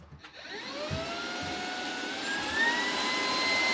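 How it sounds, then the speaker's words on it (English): A vacuum cleaner with a nozzle attachment runs steadily inside a motorhome, its whining motor drone holding close and loud throughout, rising slightly in pitch near the end. "You could hoover dogs, you know, for dog hair."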